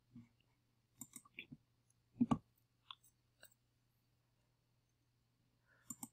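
Sparse computer mouse clicks while browsing an online Publix weekly sale flyer, a few soft single and double clicks spread out in near silence under a faint steady hum.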